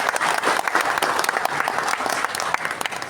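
An audience claps for the Ministry of Transmigration at an official address, brisk dense applause with sharp individual claps standing out, steady and fairly loud through the short stretch.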